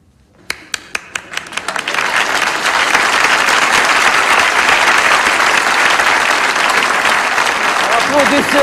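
Applause builds from a few sharp, isolated claps into a loud, sustained burst of clapping from a group, with voices faintly heard near the end.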